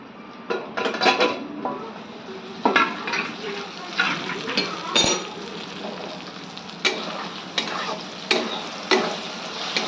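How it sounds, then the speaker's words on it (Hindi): Dal fries in a pan in a home kitchen, a sizzling hiss broken by repeated clinks and scrapes of a spoon against the pot at an irregular rhythm, close by, with faint background voices. "अभी मैं वही दाल फ्राई कर रही हूँ।"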